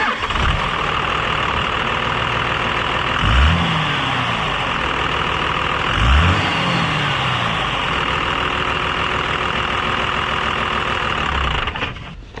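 A Cummins diesel engine, checked for a possible head gasket failure or leak, cranks and catches, then idles steadily and loudly with a couple of brief revs along the way, no talk over it.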